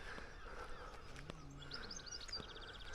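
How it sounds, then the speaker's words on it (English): Faint seagull calls drift in from a distance over a quiet seaside background with low, steady wash, a few sharp cries rising briefly above the hush. "the other sound is seagulls and the sea, the tide coming in"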